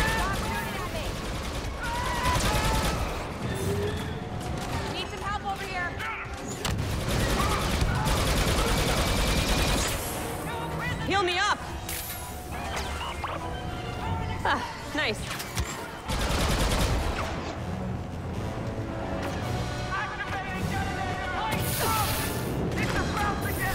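Shootout in the Star Wars Battlefront II campaign mission Inferno: dense, loud bursts of rapid weapon fire and impacts recur throughout, with brief lulls between, while voices talk over the fighting.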